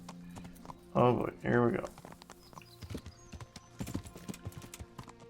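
Horse hooves clip-clopping in the video game Kingdom Come Deliverance, a light rhythmic patter of steps that carries on after someone briefly speaks near the start.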